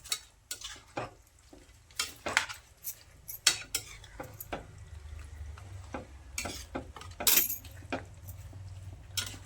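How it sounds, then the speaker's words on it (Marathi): Onion is stirred into a simmering pot of spinach chicken pulao, with a spoon scraping and clinking against the metal in irregular bursts over a quiet, low bubbling background. "चांगला असा मिक्स करून घ्यायचा कांदा"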